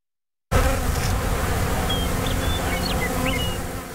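Bees from the California bee industry buzzing, a dense, close, continuous drone starting abruptly after a moment of silence and holding steady, with a few faint high chirps above and no speech.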